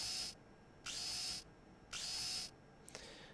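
Dentist drill boring holes in a pipe in the video game Deponia: three loud high-pitched whining drill bursts of roughly half a second each, separated by short gaps, followed by a faint click.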